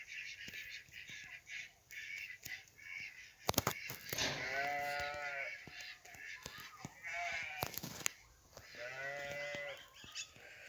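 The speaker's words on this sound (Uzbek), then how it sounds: "Qo'shnimning qo'ylari shunaqa ses chiqaryapti." Sheep belonging to a neighbour bleat in two clear bursts, one near the middle and one near the end, over a steady backdrop of outdoor noise with scattered clatter.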